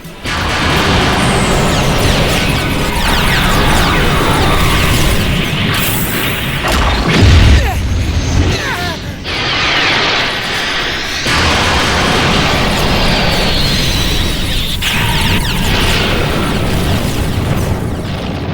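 Enemy pods being destroyed in an anime space battle, with heavy explosions and crashing booms rolling one after another over a dense roar, loud and sustained.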